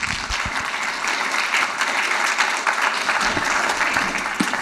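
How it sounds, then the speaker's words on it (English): Sustained applause from a conference audience at a talk, steady and fairly loud throughout, with dense overlapping claps and no voices standing out. "Please put an applause for Evan."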